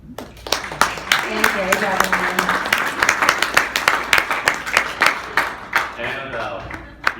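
Dense audience applause at a horror film Q&A at a fan convention, a steady patter of many hands that fades toward the end, with someone speaking over it throughout.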